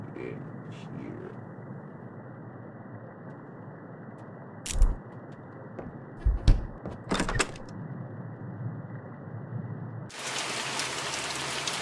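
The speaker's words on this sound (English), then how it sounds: "Oh, fantastic, it's raining." Steady rain hisses evenly throughout the video game The Mortuary Assistant, with a few sharp knocks and thuds midway and a brighter, louder wash of rain near the end.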